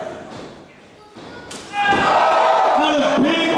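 A wrestler slammed to the mat with a snapmare during a women's wrestling match gives one loud thud amid crowd noise, while a commentator talks over the action.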